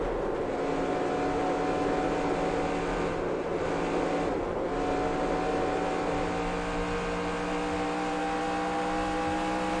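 Steady race car engine drone from the NASCAR Racing 2003 Season video game during an Xfinity race at Las Vegas, a sustained even tone held at constant loudness with brief dips, no voices.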